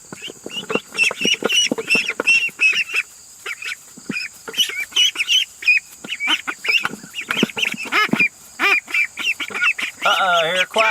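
Pekin ducks quack and honk loudly and close in a dense, continuous chorus of overlapping calls, with a person talking over them.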